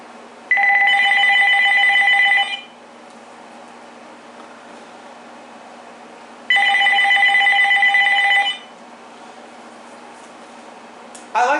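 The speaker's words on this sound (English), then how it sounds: "I like the clatter ringtone though better." A Uniden EXAI978i cordless phone sounds its clatter ringtone in two separate bursts of about two seconds each, a loud buzzing trill with steady hum between the rings.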